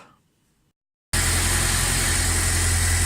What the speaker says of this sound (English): Right, so the engine's running.